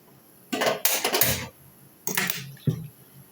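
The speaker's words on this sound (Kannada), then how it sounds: "ನೀರನ್ನು ಕುದಿಯಕ್ಕೆ ಹಾಕ್ತಾ ಇದ್ದೀನಿ." A metal pot of water is set down on a home kitchen stove to boil, giving a few close clanks and scraping knocks in two short bursts with quiet gaps between.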